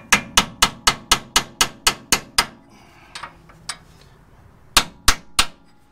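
A hammer strikes an upper ball joint on a 1993 Ford F150 4x4 in a rapid series of about ten sharp metallic clangs, then a pause with faint clinks before three more hard blows.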